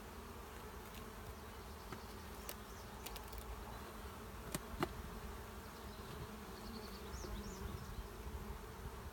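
Honeybees swarming over an opened beehive while a second brood box is added, a dense steady drone heard close by with individual bees zipping past now and then.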